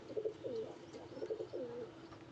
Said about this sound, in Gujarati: જોવો દોસ્તો આ કબૂતર.